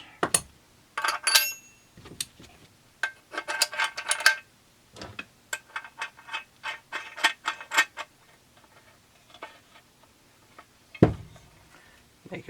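Wrench tightening a bolt with fender washers to pull a 6202 bearing into a case half of a Farmertech 372XP clone chainsaw kit, heard as close, irregular bursts of metallic ratcheting clicks and clinks with short pauses.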